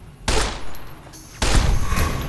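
Gunshots fired in Fallout: New Vegas come in two loud bursts, one around a quarter second in and another at about one and a half seconds, each followed by a ringing tail with no talk.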